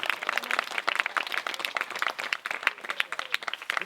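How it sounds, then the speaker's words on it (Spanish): Audience applause at a workshop on making traditional clay whistles in Asturias, a dense patter of many hands clapping steadily and fairly close for the whole stretch, with no talk over it. "Aplaudí doble que este fue profe."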